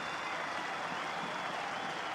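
Cricket crowd applauding a Sri Lanka win in a one-day series match, steady dense clapping heard from a distance with no voices over it.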